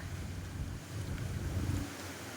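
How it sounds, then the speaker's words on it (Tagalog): Steady rush of wind and water with a low rumbling surge of large waves at high water washing against a baywalk, continuous with no voices. "Mataas na ang tubig. Malalaki ang alon."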